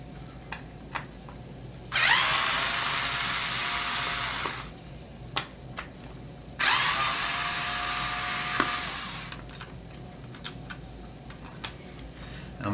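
A power driver backs out two screws from the underside of a OneWheel Plus, giving two sustained whirring bursts of a few seconds each. Small clicks and taps from handling the board fall between and after them, with no talk.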